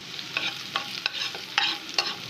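Onions frying in a pan for an evening snack, a steady soft sizzle broken by a few sharp scraping stirs, close and alone with no talk.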